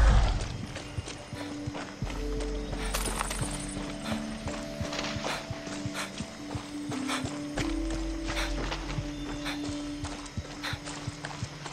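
Hoofbeats of a horse in the video game Far Cry 6, a steady rhythmic clip-clop of hooves on hard ground, close and continuous over low sustained game music.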